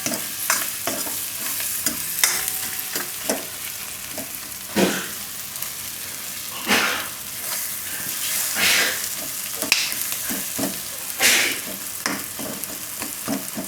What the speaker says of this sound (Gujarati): થોડીક વાર ટમેટાએ પકાવી લીધા, મસાલા થઈ ગયા.